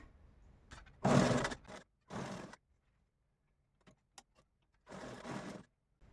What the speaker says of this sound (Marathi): आता हे असं फोल्ड करून शिलाई मारून घेते